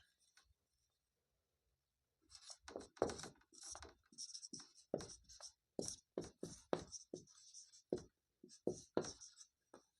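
Pen or chalk scratching out a maths formula by hand during a Class 10 coordinate geometry lesson, a long run of short close strokes and taps in uneven rhythm after a brief silence, with no talking.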